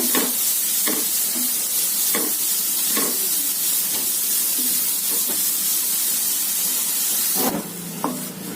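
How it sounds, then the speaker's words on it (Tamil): Carrots sautéing in ghee in a pan for carrot payasam, a loud continuous sizzle and hiss broken by regular scraping stirs of a spoon, with a sharper burst of frying near the end. "இப்போ இதில் கேரட்டை சேர்த்து வதக்கி எடுத்துக்கிறோங்க"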